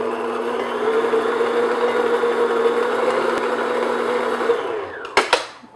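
An electric hand mixer whirs steadily as instant coffee is beaten into shortbread dough, a continuous motor hum with a steady pitch that winds down and stops with a couple of knocks at the end.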